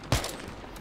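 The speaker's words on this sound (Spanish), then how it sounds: "No sé dónde me están disparando" A single sharp gunshot in Battlefield 3, a quick loud crack that fades into a low ambient rumble.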